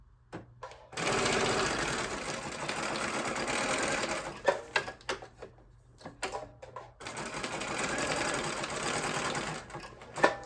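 A sewing machine stitches fabric for a junk journal cover in two long, steady runs, pausing briefly in the middle with short stop-start bursts as the corner is turned; close and fairly loud, with no talking.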